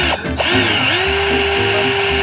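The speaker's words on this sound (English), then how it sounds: "then we're gonna drill one kind of next to where this brad nail is" Power drill boring a pilot hole beside a brad nail, a loud steady high whine from a single short burst right up close, with no talk.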